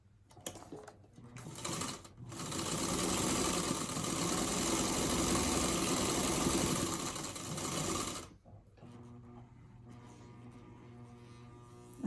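A sewing machine that may need a new belt runs after a couple of short false starts, humming in a steady, close, rhythmic whir for several seconds before cutting off and leaving a quiet room.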